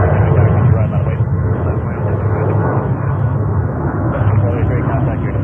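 A jet aircraft takes off from runway 22 right at JFK airport in New York, a steady, dense engine roar that holds loud and unbroken throughout.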